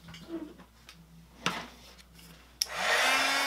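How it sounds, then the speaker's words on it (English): After some light clatter and handling noises, a heat gun switches on with a sudden loud, steady rushing blast of air while drying Distress Oxide ink on handmade cards. "We're going to go ahead and heat these with our heat gun just to dry them up"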